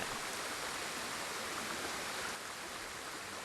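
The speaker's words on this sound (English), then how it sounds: "Maybe it's just because we're right next to the water, but it is rather loud" Flowing water rushes steadily beside the player in Ghost of Tsushima, a loud, close, unbroken wash that dips slightly in level partway through, with no talking.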